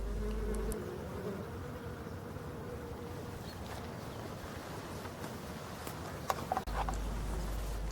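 Local black bees of Brittany buzzing at the hive in early spring, a faint, continuous hum with soft rustling and a brief bump near the end.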